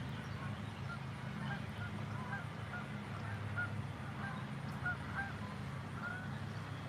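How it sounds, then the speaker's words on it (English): Distant geese honking overhead, scattered faint calls recurring throughout over constant low background rumble while fishing. "I hear the geese."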